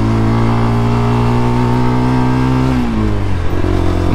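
A car fitted with a new exhaust pulls uphill in second gear, its loud, close engine drone holding steady before the pitch drops and settles near the end.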